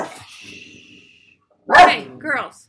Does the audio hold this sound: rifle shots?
no